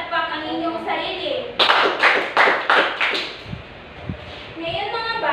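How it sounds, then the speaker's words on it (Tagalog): Schoolchildren clap together for themselves, about five sharp, loud claps in a quick rhythm at the centre, framed by a voice talking before and after. "bigyan natin ng 5 palakpak ang inyong sarili"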